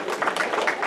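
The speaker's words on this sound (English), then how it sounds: "give yourself a round of applause" Audience applause fills a large church hall during a county prosecutor candidates panel, a brief, dense patter of many hands clapping with voices mixed in.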